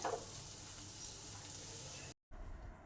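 Onions fry in a pan until reddish, a soft, even sizzle close by that cuts out briefly before resuming.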